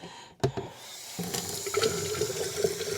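Water runs from a tap into a sink at close range, starting after a brief knock, then settling into a steady splashing flow that continues to the end.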